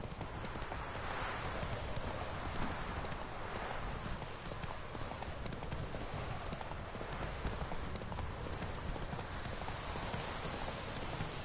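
Roach, the horse in The Witcher 3, gallops under a dense wash of hoof clatter and wind noise, the clip-clop rhythm blurred into steady, constant game ambience without pauses.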